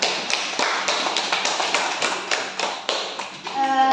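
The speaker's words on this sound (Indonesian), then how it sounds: "Tepuk tangan dulu untuk Andi Musdalifah." Schoolchildren in a combined third- and fourth-grade classroom applaud a classmate, a steady patter of many small hands clapping together for several seconds, then tapering off as a few voices start up.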